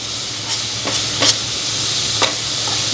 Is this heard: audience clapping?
no